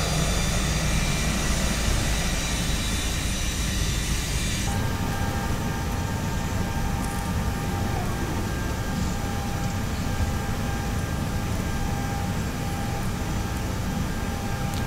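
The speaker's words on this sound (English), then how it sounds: "you can hear some other airport sounds" Steady, loud airport ambience around an Airbus A320 with PW1000G engines, a continuous broadband roar and hum filling the whole stretch without pause, with a faint whine and a slight shift in tone partway through.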